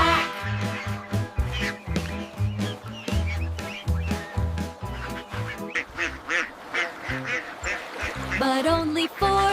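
Rhythmic quacking sounds repeat over a bouncy musical backing, a voice imitating a duck in the nursery rhyme Five Little Ducks.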